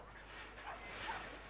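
A small dog in Brothers: A Tale of Two Sons gives a few faint, quick yips and barks over a steady low background hum, lasting under two seconds.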